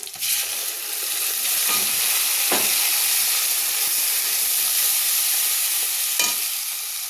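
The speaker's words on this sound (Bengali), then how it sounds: "আমি আদা রসুন টমেটো যে পেস্টটা বানিয়ে রেখেছিলাম ওটা ঢেলে দেবো" Ginger, garlic and tomato paste tipped into a pan of fried onions for dry cauliflower curry, hissing in a bright, loud sizzle with sharp bursts as it hits the oil and stirring scrapes, no talk.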